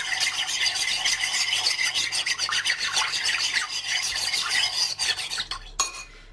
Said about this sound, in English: And just give it a stir to get it to dissolve.